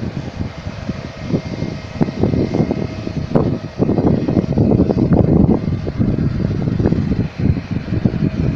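A small Thai Airways airliner passes near Phuket airport, its engines producing a loud, broad roar that swells and wavers with gusty buffeting, heard up close outdoors without speech.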